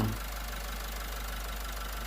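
A 1996 Toyota Mighty-X pickup truck's 2.5-litre engine idles in a constant, smooth drone, close by and with no talking.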